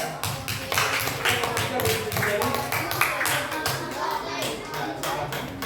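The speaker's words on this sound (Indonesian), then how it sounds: "sekarang berikan aplaus untuk kelompok 3" Children in a classroom clap for a student group, a dense, close burst of many small hands applauding over several seconds with voices mixed in.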